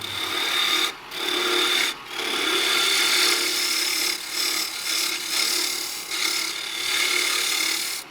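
A wood lathe rough-cuts a ring box, the tool biting the spinning wood in a steady, loud, close scraping roar that drops out briefly several times between passes, with no voices.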